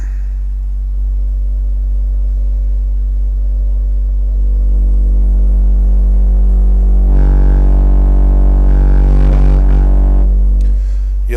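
Dual Memphis Mojo 6.5-inch woofers in a cheap prefab box playing a steady 48 Hz tone in a car audio test, a deep continuous hum that swells louder midway with buzzing box resonance.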